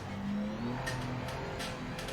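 The Alpine race car's engine drones at the Okayama circuit in the Project Motor Racing video game, a steady mid-level roar holding constant through the run.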